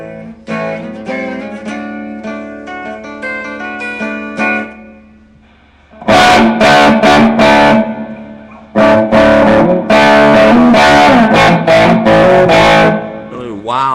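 Electric guitar recorded through the Zoom R8 with the Z Clean preamp effect, loud chords and single notes that ring out, then strummed bursts after a brief pause.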